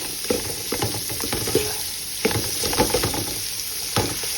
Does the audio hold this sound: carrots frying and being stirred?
yes